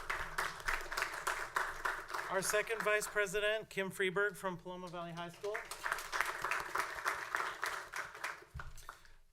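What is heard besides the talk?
audience clapping at board meeting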